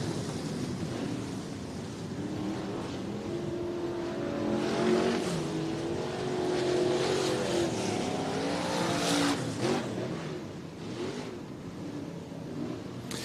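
Race car engines drone and rev around Southern Oregon Speedway in Medford, Oregon, a loud sustained roar that swells and fades as cars pass, with tire noise and a faint announcer voice mixed in.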